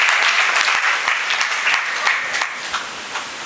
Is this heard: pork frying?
no